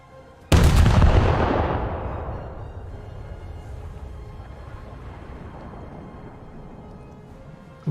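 A single heavy boom from 5-inch naval guns firing in a naval combat game, a sharp loud blast followed by a long rumbling decay that fades over several seconds.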